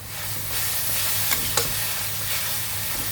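Spaghetti stir-fried over high heat in a pan, a steady loud sizzle running throughout with a couple of sharp spatula scrapes and clicks, no voices.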